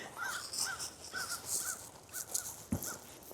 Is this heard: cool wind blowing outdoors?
no